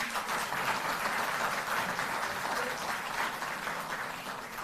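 Steady applause from a large audience at a Delhi Jal Board workers' event, dense and continuous clapping holding at an even level throughout with no talk over it.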